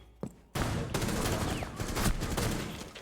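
Rapid burst of gunfire in Rainbow Six Siege, a faint single shot followed by a sustained loud volley of close-range rounds that rattles on for over two seconds.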